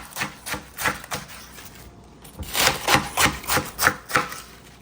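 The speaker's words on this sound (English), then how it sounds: "I also think that cabbage should be also cut into smaller pieces" Cabbage being cut into smaller pieces for a keto vegetable soup: a knife strikes a board in quick rhythmic chops, a burst of several strokes, a short pause, then a longer steady run of close, crisp cuts.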